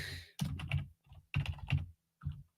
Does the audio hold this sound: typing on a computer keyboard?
yes